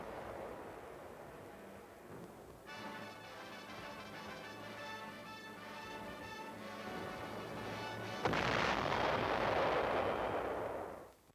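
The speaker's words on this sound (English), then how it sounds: "The snow muffles the sound of the big guns." Distant big guns of artillery firing on the Korean front in winter snow, heard as a low muffled rumble under an old film soundtrack, with a sustained tone and then a louder burst of noise.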